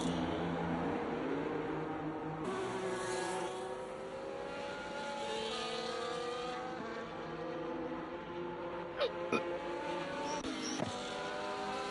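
Race cars in a racing video game drive into the pit lane, several engines droning and shifting pitch together at a steady speed, with a couple of brief sharp knocks near the end.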